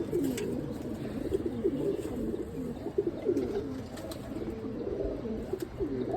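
Pigeons, including a jira-neck breed, coo in a soft, continuous stream of low rolling calls, with faint brief chirps above and no talking.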